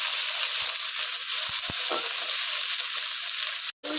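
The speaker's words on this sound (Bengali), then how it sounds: "একটা কাটাই দিয়ে দিলে সিমটা ভালো করে নেড়ে ছেড়ে ভেজে নিই।" Flat beans fry in oil in a pan with a dense, continuous sizzle, broken by a few sharp knocks of a spatula stirring against the pan and a brief dropout near the end.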